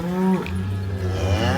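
Cattle on a ranch giving a loud, close, drawn-out moo followed by a second lower bellow, with no talk.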